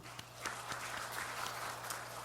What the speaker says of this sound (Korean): 우리 박수로 환영하고